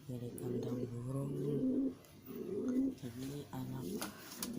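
Pigeons in a cage with their young coo in close, repeated low throaty phrases, several bursts in a row with short pauses, loud and clear in the foreground.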